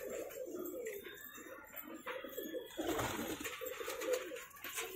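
Soft, low coos from a Desi pigeon repeat through the clip over a busy background of rustling and faint chirps, fairly close.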